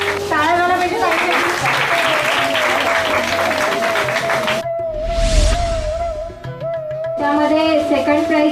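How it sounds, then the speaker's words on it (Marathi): An audience at a women's community gathering applauds a prize winner, a dense wash of clapping running beneath loud music, dropping briefly midway before swelling again. "एकदा जोरदार टाळ्या पाहिजे"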